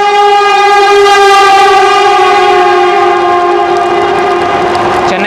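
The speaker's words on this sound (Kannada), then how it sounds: "ಚೆನ್ನೈ ಕೊಯಂಬತ್ತೂರು ವಂದೇ ಭಾರತ್ ಎಕ್ಸ್ಪ್ರೆಸ್" A Chennai–Coimbatore Vande Bharat Express at Jolarpettai station in Tamil Nadu sounds a loud, sustained multi-tone horn that holds steady for several seconds, close and alone.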